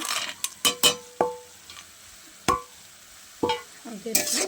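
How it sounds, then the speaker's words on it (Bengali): A spoon scrapes and clanks against a pan as fried nuts are stirred into a ground garam masala paste, giving irregular sharp knocks and scrapes over a faint sizzle. "নাড়াচাড়া করে নেব"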